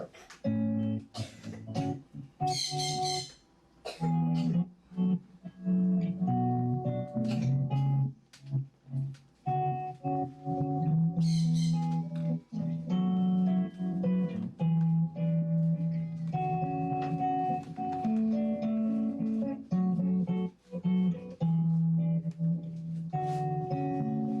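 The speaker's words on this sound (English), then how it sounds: "playing the chords in the scale form" Guitar chords are strummed one after another, climbing through a scale at an unhurried pace, each chord ringing briefly before the next.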